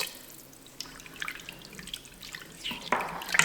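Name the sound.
red wine poured into French onion soup pot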